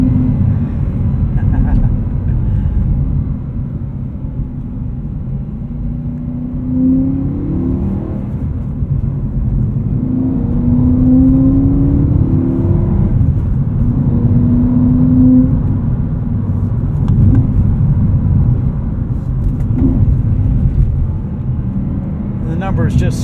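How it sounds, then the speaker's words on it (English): An E92 BMW M3 Lime Rock Edition with a naturally aspirated engine and six-speed manual drones loudly while driving, its note rising and falling through revs, with a voice talking over it. "Sounds like a NASCAR out here."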